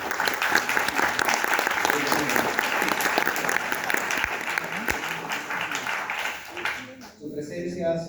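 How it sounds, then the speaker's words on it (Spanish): An audience at an academic event applauds guests seated in the front row, sustained close clapping from a crowd that fades out near the end, with a voice speaking over it. "Un aplauso para ellos."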